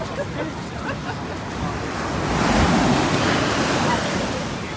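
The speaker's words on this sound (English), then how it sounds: "So, it's a little bit strong the waves today." Strong ocean waves roll in at Padang Padang Beach in Bali, a loud, continuous wash of surf mixed with wind buffeting. It swells into a bigger crash midway and then keeps rushing.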